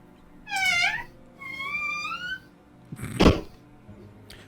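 A cat meows twice, each a drawn-out rising-then-falling cry, followed by a brief thump, heard up close in a quiet room.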